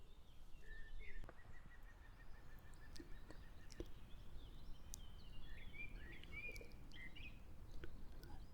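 Faint, scattered bird chirps and short calls over a steady background hiss, with no voices.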